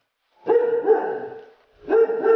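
A dog barks in two sustained, harmonic bursts, loud and close, with a short pause between them and no other sound around.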